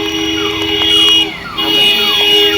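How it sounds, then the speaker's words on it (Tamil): An ambulance siren wails during Cyclone Fengal in Puducherry, its rising and falling tones sounding over steady wind and street noise, loud and fairly close. "எக்கச்சக்க ஆம்புலன்ஸ் வந்து போயிட்டுருக்கு"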